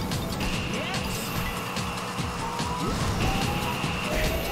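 Karts drifting in Sonic & Sega All Stars Racing, steady engine drone with repeated tire squeals and skids, continuous and fairly loud throughout.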